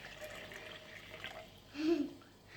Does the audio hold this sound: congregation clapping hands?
no